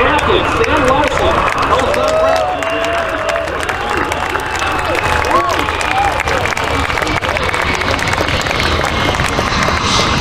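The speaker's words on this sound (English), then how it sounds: "how about a huge round of applause for Captain Sam Larson" Crowd applause at an air show, steady dense clapping and cheering from a large outdoor audience that continues throughout while people talk over it.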